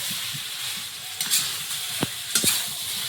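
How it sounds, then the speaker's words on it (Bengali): Potatoes sizzle steadily in hot oil with spices in a pan, with a few sharp scraping knocks of the stirring spoon near the middle and end; no talking. "মশলার সঙ্গে একটু নেড়ে ছেড়ে দিই"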